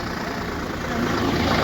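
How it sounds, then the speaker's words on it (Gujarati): A tractor's diesel engine running steadily after a fuel-line blockage under the diesel tank is cleared, a close, continuous low rumble that swells slightly toward the end. "ટ્રેક્ટર કમ્પ્લીટ ચાલુ થઈ ગયું જોઈ લો."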